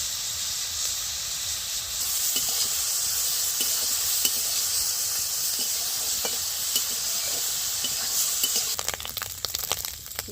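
Pond snails fry in hot oil with salt and turmeric, a steady close sizzle and hiss that holds throughout, with a few scraping stirs and a burst of crackle near the end.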